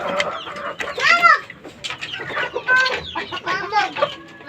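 A laying brood hen on a Philippine backyard gamefowl farm, due to hatch eggs soon, clucks close by in short, irregular bursts, with a few higher squawks and other chickens calling around her.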